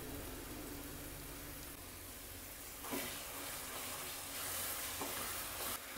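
Sarpuria sweet mixture is stirred in a wok, giving a continuous soft sizzling and scraping hiss with occasional louder scrapes, close up and with no talking.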